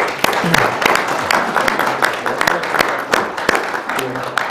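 An audience at a Korean shared-growth forum award ceremony claps loudly after a plaque presentation, sharp individual claps ringing out in an uneven, lively rhythm for several seconds.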